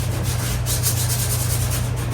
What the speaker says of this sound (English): I'm sanding at about a 30-degree angle and taking that off with my hand